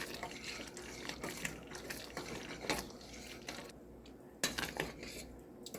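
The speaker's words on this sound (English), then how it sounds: "make sure you stir until you know they're nice and smooth so that you don't get any lumps" A utensil clinks and scrapes against a pot while a sauce made with ham drippings is stirred, a busy run of metallic taps and liquid sounds close by with no talking.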